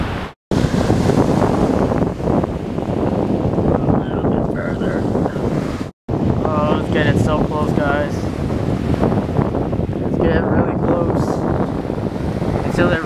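Ocean waves wash up a beach on a windy day, a steady loud roar of surf mixed with heavy wind buffeting the microphone, with brief bird-like chirps and faint talk in places.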